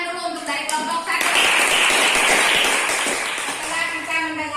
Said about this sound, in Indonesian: Kita berikan tepuk tangan dulu untuk dari kelompok 1.